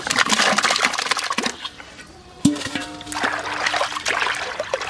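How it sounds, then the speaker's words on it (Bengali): Washed chana dal is tipped into warm water in a pot, making splashing and trickling sounds with a sharp knock midway, then more sloshing. "জলটা একটু গরম করছি, এই জলে ঢেলে দেবো ছোলার ডাল"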